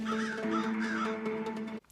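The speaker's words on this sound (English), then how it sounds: "there are crow noises, but no crows" Crows cawing in a steady run of harsh, repeated calls, fairly close and loud, with no talking, ending in an abrupt cutoff near the end.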